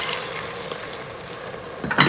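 Milk pours steadily into an Instant Pot with a soft, continuous splashing, ending in a louder burst of splashing near the end.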